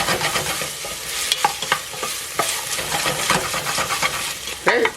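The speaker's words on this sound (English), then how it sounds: "I'm going to give that just a couple of tosses, just to get that garlic flavor going" Minced garlic frying in olive oil, tossed in a pan for Italian rice balls, gives a steady close sizzle broken by a few soft scraping stirs and light clinks.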